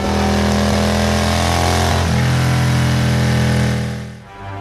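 A scooter engine starts up and settles into a steady mid-pitched hum, its pitch stepping up as it pulls away, then the sound drops off sharply near the end.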